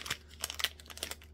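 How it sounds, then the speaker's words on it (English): Thin plastic packaging crinkles as small bagged items from an online shopping haul are pulled open. The quick, crisp bursts of crackling stay soft and close, with no voices. "try to get these packages open."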